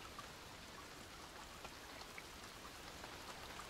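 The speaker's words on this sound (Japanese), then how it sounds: "雨が降っている" Steady rain pattering softly and evenly around an observatory-themed house in Final Fantasy XIV, a continuous quiet hiss of drops with no voices.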